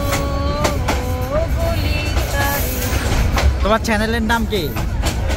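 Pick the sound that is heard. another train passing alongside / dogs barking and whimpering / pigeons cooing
another train passing alongside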